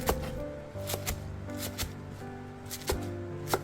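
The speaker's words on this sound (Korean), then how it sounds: "부추 한 줌을 3cm 길이로 잘라줍니다." A knife cuts a handful of garlic chives into short lengths on a cutting board while cucumber kimchi is being made, giving quick sharp taps at an irregular pace that sit over steady background sound.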